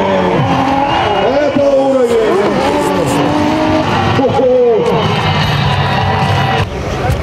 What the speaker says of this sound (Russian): лучший дрифт был все же у Алексея